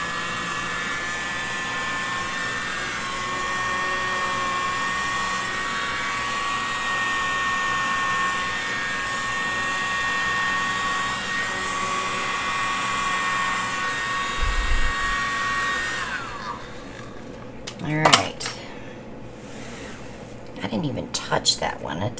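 Steady broadband whoosh of a hair blow dryer blowing on flower blooms during box prep, held loud and even for about sixteen seconds before it cuts off, leaving a few clicks and handling sounds.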